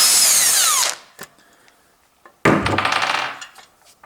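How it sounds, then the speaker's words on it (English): An impact driver loosens a 10 mm bolt on a Ford Duratec engine in two loud, close bursts of whirring hammering, separated by a pause holding a few faint clinks. "and then I open this by impact driver"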